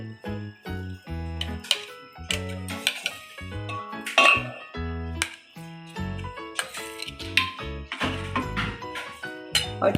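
Metal utensil clinking and scraping against a pot while fermented dhokla batter with a little oil is stirred and split into portions, with repeated close, bright clinks in an uneven rhythm.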